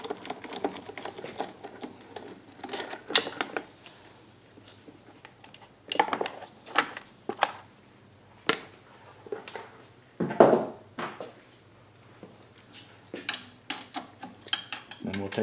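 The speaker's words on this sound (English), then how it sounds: "So we're going to take that valve cover bolt out now so that we can get this plastic cover completely out of the way." Metal clicks and ratcheting taps from a tool loosening valve cover bolts on a Pulsar PGD95BiSCO generator come in short irregular bursts, close by, with quiet gaps between them.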